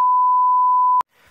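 A phone camera gives a single clear, steady electronic beep lasting about a second as the recording cuts off, then a short quiet rustle.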